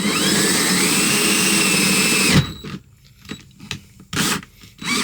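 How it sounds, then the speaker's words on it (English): A drill bores a hole in the hull of a Yamaha 242X boat for an auxiliary charging port, a steady close whine running about two and a half seconds before stopping abruptly, followed by short clicks and handling bumps. "So let's just drill. Start slow."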